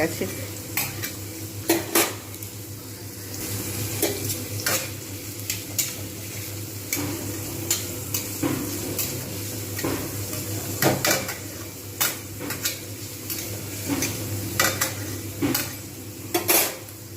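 Onions softening and browning in a pan for an ivy gourd (kundri) and potato fry, sizzling steadily while a utensil stirs and clinks against the pan in frequent, irregular close strikes, with no talking.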